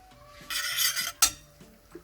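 Coconut and sesame seeds stirred in melted ghee in a pan over a low flame, giving a scraping, sizzling burst of metal-on-pan stirring with a sharp clink, then quieter scrapes.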